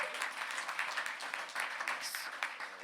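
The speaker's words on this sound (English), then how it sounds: "Let's give a round of applause to Gwen Carr as well." An audience at a civil rights gathering applauds steadily throughout, a dense wash of many hands clapping at moderate distance, with no pause.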